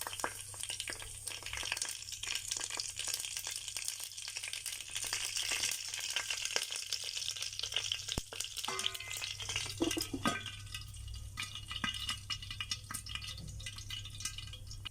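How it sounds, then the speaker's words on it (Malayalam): Mustard seeds and fenugreek fry in hot oil in a kettle, giving a continuous dense crackling sizzle that stays close and steady throughout, with faint rattling underneath. "കടുകും ഉലുവായും കൂടെ നമുക്ക് അതിനകത്തോട്ട് ഇട്ട് കൊടുക്കാം"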